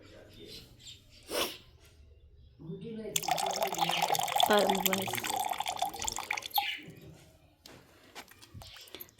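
Water drips and pours nearby, a burst of splashing liquid that swells in the middle and fades, with someone speaking before and after it.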